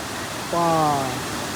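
Water pours down at Manjhar Kund, a large waterfall in Bihar, as a steady broadband rush of falling water, with a brief voiced tone rising over it midway.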